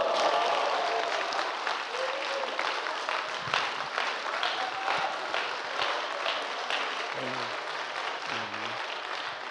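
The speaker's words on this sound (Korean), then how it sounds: "300명 박수 치고." A church congregation claps together in steady, sustained applause that fills the room, with a few brief voices rising faintly near the end.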